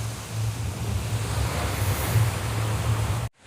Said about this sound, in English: the wind picked up like crazy in Florida